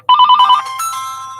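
A telephone rings close and loud with a rapid trilling bell burst lasting about half a second, followed by a fading electronic chime tail.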